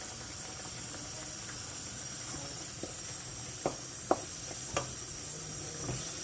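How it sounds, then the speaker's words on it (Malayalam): Soft, steady sizzling and bubbling of apple pickle boiling in a pan, with a few faint pops and clicks scattered over a continuous hiss. "അങ്ങനെ തിളച്ചിട്ടുണ്ട്"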